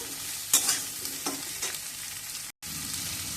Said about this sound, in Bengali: এবার আলুটা তিন চার মিনিট একটু ভেজে নিয়ে এর মধ্যে দিয়ে দেবো ঝিঙে ঝিঙেটা দিয়ে একটু নেড়ে নেব